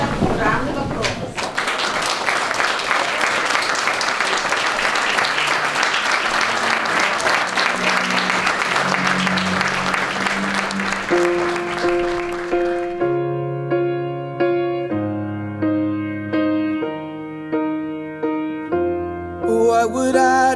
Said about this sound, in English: can I ask you all please to stand and give Mrs. Carter a round of applause